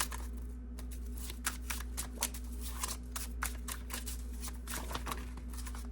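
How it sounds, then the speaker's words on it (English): Tarot cards being shuffled by hand, a quiet series of crisp riffling flicks and taps in uneven bursts over a low steady hum, close and alone without talking. "I'm going to pull more cards if there's anything else."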